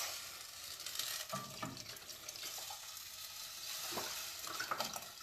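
Liquid broth pours from a carton into a cooking pot for a quick mushroom miso soup, giving a steady close splashing, gurgling stream with a few brief surges and no talking.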